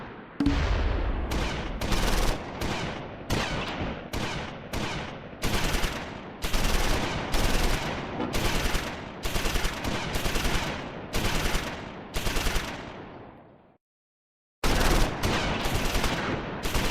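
Machine gun fire from a Panzer tank in the World War II strategy game Close Combat 4, set at the Battle of the Bulge, long rapid bursts of loud, dense automatic fire, briefly pausing before another burst begins.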